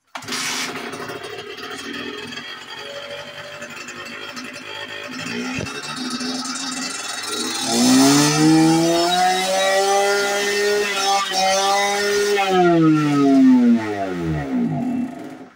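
A Minarelli AM6 80 CR motorcycle engine starts from cold with a sputtering, uneven idle, then revs up hard into a loud, rising buzz that holds briefly before dropping back, with no talking.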